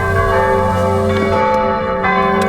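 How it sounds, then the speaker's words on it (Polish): Church bells ring loudly and steadily from a church in a Polish village, their rich overlapping tones sustained throughout with no talking. "Dzwonią dzwony tam w kościele."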